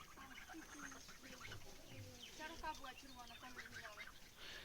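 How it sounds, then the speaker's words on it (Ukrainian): Several geese honk and cackle close by in a busy, overlapping chorus of calls with no one speaking. "Зранку дощ падав і Наталя гуси пасе"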